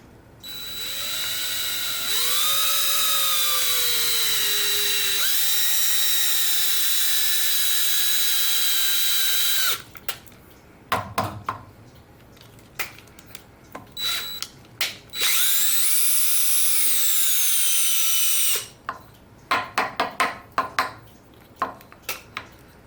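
A hand-held drill whines loudly in long runs, its pitch sagging under load, broken by clattering knocks and another short burst of drilling.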